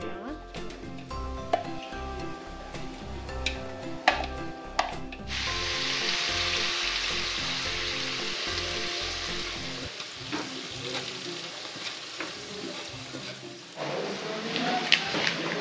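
Ingredients for Hai Phong crab noodle soup fry in a pan, a steady loud sizzle with stirring and scraping clatter of utensils, occasional sharp knocks, and faint voices at times.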